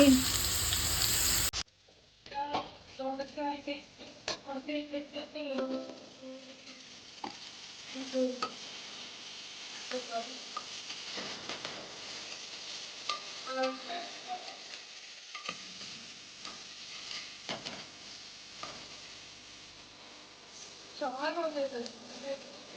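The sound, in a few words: frying ivy gourd (tindora) with peanuts in a pan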